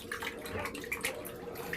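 Water sloshing and splashing close by as soap is stirred into a small amount of water to make shaving lather, a continuous soft wet swishing with no talking.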